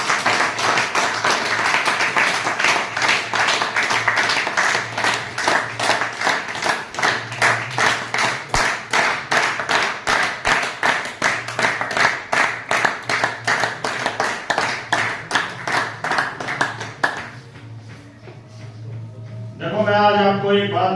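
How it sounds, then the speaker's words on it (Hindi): A crowd at an event in Hisar, Haryana claps loudly and in rhythm to music, the steady beats continuing for about seventeen seconds before fading and giving way to a speaking voice. "एक बार जोरदार तालियां"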